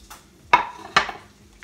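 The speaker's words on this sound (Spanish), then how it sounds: "ahora vamos a picar lo que es una cebolla." Half a white onion being cut into half-moons with a knife on a board: two sharp, close chops about half a second apart, with quiet pauses between.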